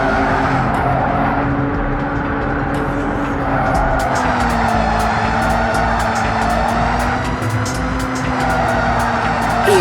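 Race cars roar continuously on the Mt Rosa track of the Grand Alps in Xenon Racer, loud and steady engine drone with sustained tire squeals and skids throughout.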